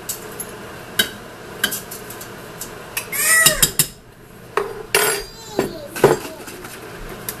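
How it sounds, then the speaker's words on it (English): A spoon scrapes and clinks in a pot as brown sugar is mixed into a hot carrot glaze, with sharp metallic knocks and short squeaky scrapes, loud and close, plus a brief cat-like squeal. "we're going to go ahead and mix in our 4 cups of brown sugar"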